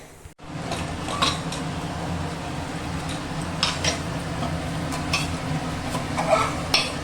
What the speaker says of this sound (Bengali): মাংসটা আমি খুব ভালো করে কষাচ্ছি, উপরে তেল এসে গেছে